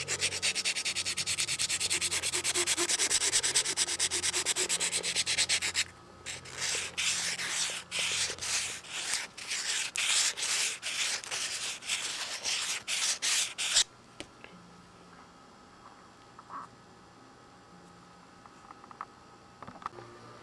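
Sticky-back sandpaper on a block dressing the epoxy edge of a horn on a Windy U Master 806 nose ring, heard close: steady rapid rubbing strokes at first, then separate short rhythmic scrapes, then quieter sparse scuffs.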